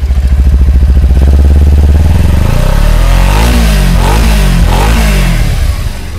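Two-cylinder sport motorcycle with a stock exhaust, idling with a loud, close, pulsing thump and then revving up, the pitch rising and falling through several blips, no talking.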